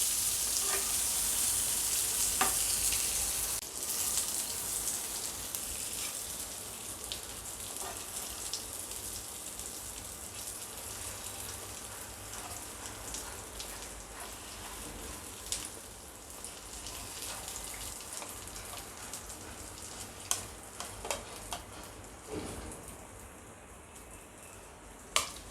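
Stuffed brinjals roast in oil in a pan, giving a continuous crackling sizzle with scattered sharp pops and the odd clink of a utensil, steady and close with no talk.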